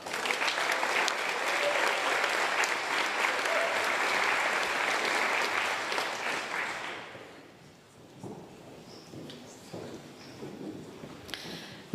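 Audience applause at a university graduation and achievement ceremony in Inverness: steady, dense clapping from a large crowd for about seven seconds, then fading to scattered claps and quiet room noise.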